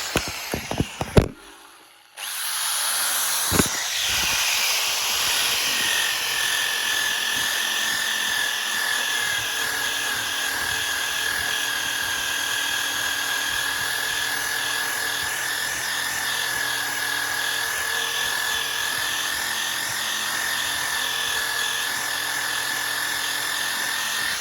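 A very loud, steady high-pitched power tool whines continuously while stripping a Nissan Leaf battery case back to bare metal around the mating edges, starting after a few brief clicks and running unbroken at close range.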